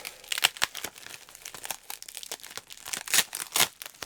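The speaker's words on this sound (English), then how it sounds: "I'm going to carefully open the bubble wrap on this" Close crinkling and crackling of bubble wrap being opened around a package, with sharp tearing rips of tape pulled off, in irregular bursts of varying loudness.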